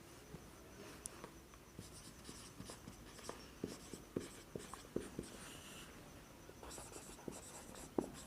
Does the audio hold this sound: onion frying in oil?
no